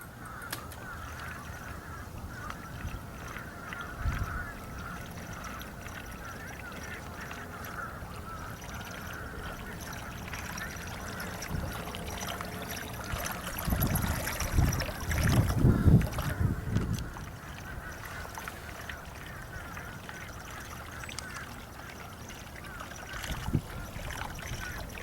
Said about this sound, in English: You can easily hear the noise this Aggravator buzzbait makes in the video.